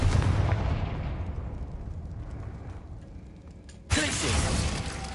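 A Confringo blasting spell explodes in the Hogwarts Legacy game, a loud booming burst that rumbles and decays over a few seconds before a second sharp crackling blast hits near the end.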